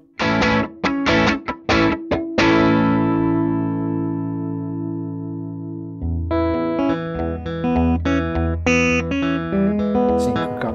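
An electric guitar runs through a VOX MV50 Nutube amplifier, first struck in a quick run of sharp chords that ring out and decay, then played as a lively, distorted riff with bright, close picked notes.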